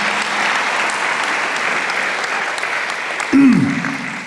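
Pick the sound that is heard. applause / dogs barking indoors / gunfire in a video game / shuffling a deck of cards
applause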